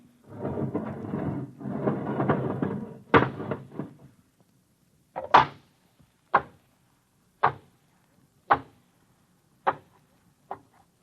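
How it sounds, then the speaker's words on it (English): The inner airlock door of a spaceship opens in a radio drama, a rumbling grind followed by a series of sharp metallic clunks spaced about a second apart, with no talk over it. "All right, open the inner door."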